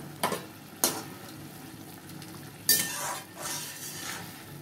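Chicken balls dropped into a hot pan to fry, with a few loud clatters and splashes as they go in, then steady sizzling underneath, close by and without talk.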